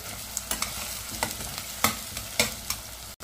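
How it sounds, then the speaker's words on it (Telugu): Onions and slit green chillies fry in a pan with a constant close sizzle. Periodic scraping stirs of a spatula break in, roughly every half second, with no speech. "ఇప్పుడు ఉల్లిపాయలు చూడండి కాస్త మంచిగా చక్కగా ఫ్రై అయ్యాయి కదా"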